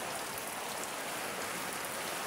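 Heavy rain pours steadily onto a flooded street, a dense, unbroken hiss of downpour filling the scene with no voices.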